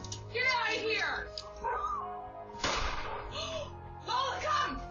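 A dog named Lola barks and yips sharply at a man trying to steal a car, the barks close and loud in short bursts, mixed with shouting voices and thumps.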